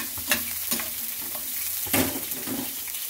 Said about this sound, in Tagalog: Habang pinaprito natin ang ating isda.